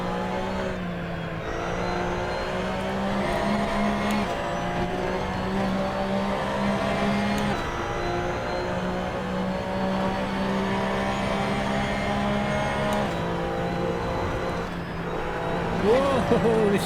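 An Audi Sport quattro S1 race car in a racing video game on the Highlands track: steady engine drone with shifting pitch as it accelerates and changes gear, continuous and fairly loud, with a voice talking at times.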